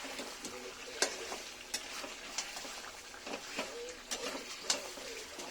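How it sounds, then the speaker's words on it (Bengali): Potatoes and meat sautéing in a pan, a soft continuous sizzle broken by scattered light clinks and scrapes of stirring, quiet and close. "আলু দিয়ে আবার কিছুক্ষণ সুন্দর করে ভালোভাবে কষায় নেব।"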